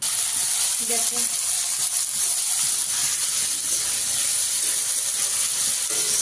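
Chopped vegetables fry in hot oil in a wok, giving a loud, steady sizzle and crackle that holds for the whole stretch, with faint clinks now and then.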